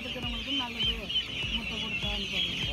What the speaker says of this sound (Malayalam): ഇവിടെ നമുക്ക് കരിങ്കോഴിയുണ്ട്.